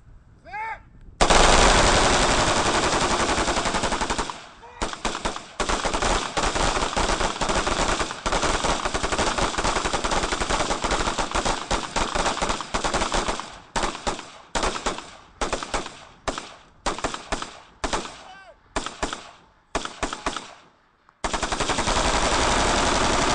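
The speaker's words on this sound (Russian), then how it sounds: "Стрельбы проходят на полигоне в селе Ишера Сухумского района" Border guards fire automatic weapons during shooting drills at a firing range in the village of Ishera, Sukhumi district: loud, close machine-gun bursts, long sustained strings giving way to shorter rapid volleys with brief pauses.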